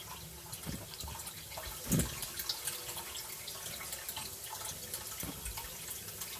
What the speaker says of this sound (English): And it's just slowly trickling in.